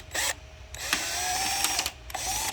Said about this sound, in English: Of course, I have to use a power drill on this.